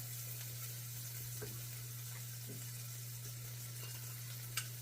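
Garlic frying in a pan, a faint steady sizzle with a few soft clicks and a low constant hum underneath, no one talking.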